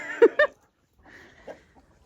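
Two short, close clucks from a chicken, then softer low clucking murmurs after a pause, with no talking.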